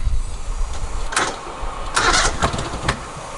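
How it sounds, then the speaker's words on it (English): A Kohler CV745 engine on a Hustler Super Z mower cranks over under the starter, a steady close mechanical churning broken by several sharp bursts, with no voices. "so it's turning over now"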